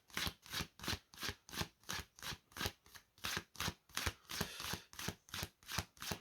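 Playing cards shuffled for a card reading in a steady riffling rhythm, about sixteen quick bursts at regular intervals, close and fairly loud, with no talk.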